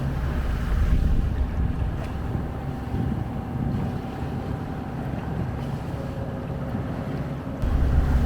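Sailing boat motoring under engine at sea off La Palma and Gran Canaria: a steady low engine drone with water rushing past and light wind noise, continuous and fairly close, with no talk.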